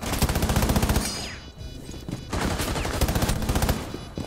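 Rapid bursts of automatic gunfire from a Rainbow Six Siege match, loud and close, in two sustained volleys separated by a brief lull.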